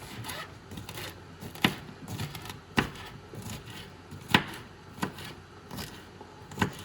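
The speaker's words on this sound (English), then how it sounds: "I'm gonna actually just dice this up pretty small here, so that it almost melts away into my dish." A knife dices jalapenos on a wooden cutting board, giving sparse, irregular sharp chops spaced a second or so apart over a soft background rustle, with no talking.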